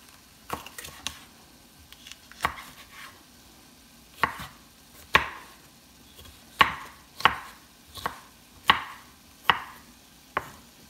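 Food being chopped on a cutting board while bacon renders slowly in a pan for a Christmas rice dish with peppers. Sharp knife strikes land close by, singly and in small bursts with short pauses, and no voices are heard.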